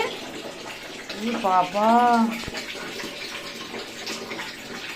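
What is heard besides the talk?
water emptied from a basin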